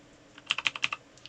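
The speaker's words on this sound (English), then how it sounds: "The clattering, that's my keyboard. It's a very loud keyboard." A very loud computer keyboard clatters through a quick burst of about seven sharp keystrokes, close to the microphone, with a couple of fainter taps trailing after.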